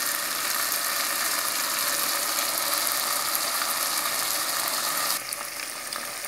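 Beef steak frying with tomato and a drizzle of olive oil, a loud, continuous close sizzle with crackling that drops slightly in intensity near the end.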